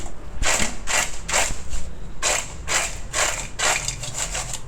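Loud, close crunching in bursts as crispy fried banana stem fries are bitten and chewed, with brief pauses between groups of bites and no talking.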